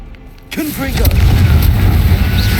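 A Confringo blasting curse explodes in Hogwarts Legacy, a loud close boom that swells suddenly and rolls on as a sustained roaring blast, with a brief voice just before it.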